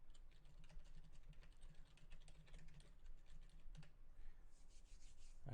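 Fast typing on a computer keyboard, a steady stream of light clicks with a brief pause near the end, close and fairly quiet over a low background hum.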